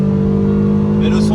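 Small hot hatch engine under hard acceleration, a steady loud drone heard from inside the car, with someone talking over it throughout.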